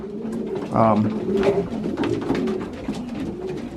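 Young pigeons coo softly inside an aviary, a few low throaty calls under a voice talking nearby.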